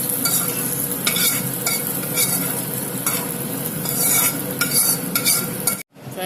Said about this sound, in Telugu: ఈ తాలింపు ఈ విధంగా కలుపుకోవాలన్నమాట